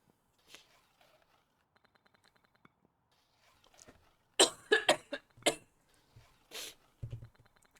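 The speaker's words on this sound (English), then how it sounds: "So if you hear me coughing randomly, it's just my allergies acting up" A man coughs from allergies in a quiet room: a burst of several close, dry coughs in quick succession, then a couple of isolated coughs and a throat clear, with faint clicks in between.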